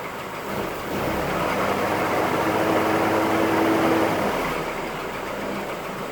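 A 1946 Willys CJ2A engine idles after sitting all winter, a steady low mechanical rumble close by that rises slightly after starting and holds an even drone before easing off.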